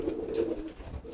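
A male pigeon driving its mate gives a low, throaty coo close by, a short rolling call that fades at the end.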